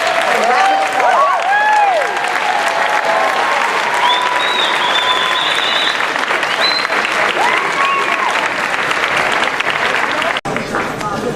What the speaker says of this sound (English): Let's give all of these five-star chapters a round of applause